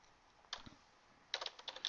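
Typing on a computer keyboard while entering matrix names in a spreadsheet, heard as a short burst of clicks, a pause, then a quicker run of close, crisp keystrokes.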